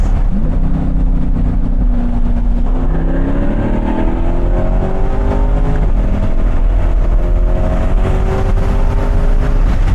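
Modified C8 Corvette accelerating hard, its engine note climbing steadily through repeated rising sweeps as it pulls away, loud and close with no talking.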